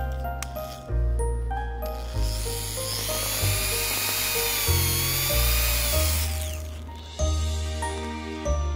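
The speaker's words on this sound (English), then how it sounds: "we are going to pre-drill the hole using this drill" A power drill pre-drills a hole into the top of a wooden Christmas tree trunk so it won't split, for hanging the tree from the ceiling, whining loudly with speed changes and several start-stop bursts, close and alone with no talk.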